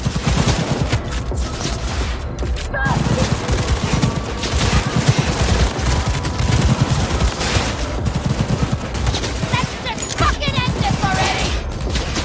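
Rapid smart-pistol fire in Cyberpunk 2077 crackles in dense bursts across the whole stretch, loud and close, with game effects and a voice talking over it.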